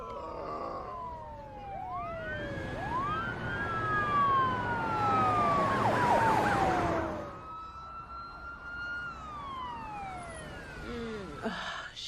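Ambulance siren wailing loudly with rising and falling sweeps, close by and steady for about seven seconds, then continuing a little fainter before a brief clatter at the end.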